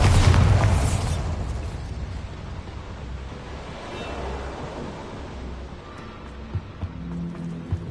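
A Bombarda spell explodes in Hogwarts Legacy, opening with a loud boom that fades into a long rumbling wash of debris, with a few faint pops near the end.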